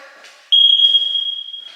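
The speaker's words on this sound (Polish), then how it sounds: "to jest czujnik przeciwpożarowy. Jak baterie są na wyczerpaniu, wtedy tak piszczy." A smoke detector with a dying battery gives a single loud, piercing high-pitched tone lasting over a second, close by in a quiet house.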